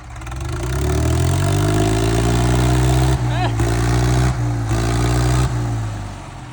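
A tractor engine running in gear at a grain market, a loud steady low rumble with brief dips and changes in pitch.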